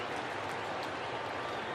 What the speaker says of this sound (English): Big cheer for Wilson Contreras